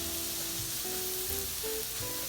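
Shrimp frying in a pan in a thin layer, cooked one by one, give off a faint, steady hiss of sizzling across the whole clip, with low hum and clatter underneath and no talking.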